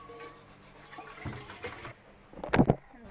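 Water poured from a jerry jug for washing dishes aboard a sailboat, a faint trickle early on, then a louder splashing gush near the end.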